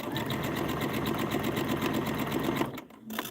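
A sewing machine runs steadily, stitching stitch-and-flip triangles for quilt stars, a continuous close whirring drive that cuts off abruptly near the end, leaving a brief quiet before a short final burst.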